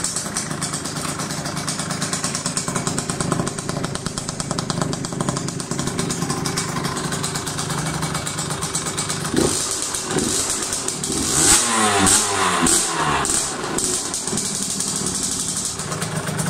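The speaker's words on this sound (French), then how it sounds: "maintenant on va passer au démarrage, comme ça vous allez écouter le bruit du pot" A Rieju 50cc motorbike with an aftermarket exhaust idles steadily and loudly up close, then blips through a few quick revs before settling back to a buzzing idle.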